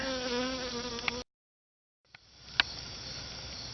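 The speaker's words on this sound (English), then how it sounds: "You also might hear some honeybees in the video" Honeybees buzzing close by during char cloth making, a steady droning hum that cuts out briefly and returns fainter, with a couple of sharp clicks.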